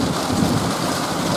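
Heavy thunderstorm rain pouring down in a hillside area of Ome, Japan, a steady dense roar of downpour close by with no voices.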